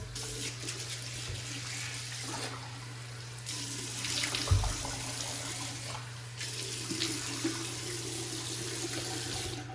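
A bathroom tap runs steadily as water splashes into the sink while a face is wetted before a shave, close and constant with small splashy bursts midway.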